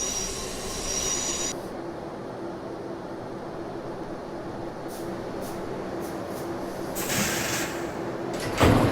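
A New York subway shuttle train at Grand Central squeals steadily on its wheels, a loud continuous metallic screech over heavy rumbling, with a brief hiss like doors or brakes near the end.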